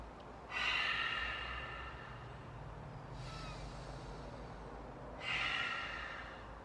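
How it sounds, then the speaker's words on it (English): Two deep cleansing breaths during a beginner yoga session, each a long, airy exhale through the mouth, breathy and close, separated by a quieter inhale with no talking. "2 cleansing breaths."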